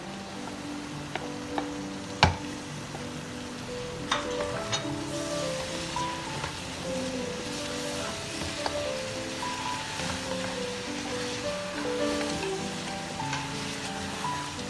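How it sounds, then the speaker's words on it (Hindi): Masala and tomatoes for Sindhi beef biryani fry in a pot with a steady, close sizzle and occasional stirring clinks, with no one talking. "इसको मैं 2 मिनट भूनूंगी अच्छा सा।"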